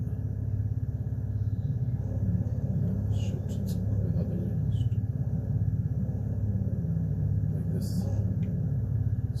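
A car creeps slowly into a parking space during a driving lesson, its low engine rumble steady and close throughout, with faint talk beneath.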